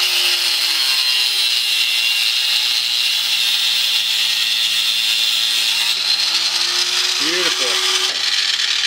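A saw works through a cut in a steady, continuous rasping drone that runs nearly unbroken and close by, with a brief voice near the end.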